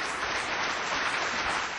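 Steady applause from a conference audience welcoming a keynote speaker, a dense continuous patter of clapping at moderate level with no pauses.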